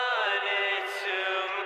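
A vocal run through a full radio-style parametric EQ preset, its lows cut away and the midrange boxed in, giving a thin, narrow telephone-like tone across a short sung phrase.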